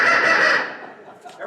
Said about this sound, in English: Every time I see you dozing off, Bob, I'm going to give you a duck call